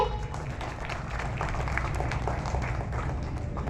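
A crowd of schoolchildren claps together at a school assembly, a dense, even patter of many hands that carries on steadily at moderate loudness.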